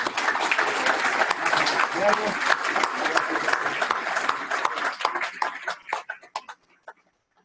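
An audience at a formal swearing-in ceremony gives a strong round of applause, steady clapping for about five seconds that thins into scattered claps and fades out.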